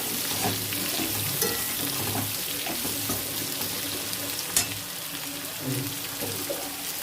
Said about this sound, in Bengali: পেঁয়াজটাও ভাজা হয়ে যাবে, আলুটা অনেকটা ভাজা হয়ে যাচ্ছে।